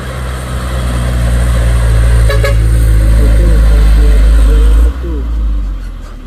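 Heavy truck engine droning loudly and steadily on a steep hill road, close and sustained, then cutting down abruptly near the end with quieter rumble after.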